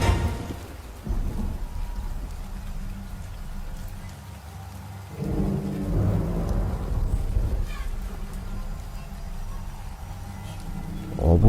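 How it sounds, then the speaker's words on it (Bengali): Torrential rain pours steadily while deep thunder rumbles roll in, one swelling near the middle, forming a dark stormy backdrop. "মুষলধারে বৃষ্টি পড়ছে।"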